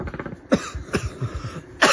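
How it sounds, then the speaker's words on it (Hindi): Several rough, close coughs in quick irregular succession from a person, with short pauses between them and a final loud burst at the end, heard outdoors in tribal Jammu and Kashmir. "खांसी आती है?"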